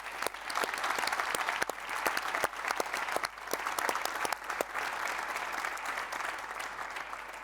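Audience applauding after a talk on climate crisis and sustainability in Cornellà, moderate, uneven clapping from a seated crowd with sharp individual claps standing out, sustained throughout.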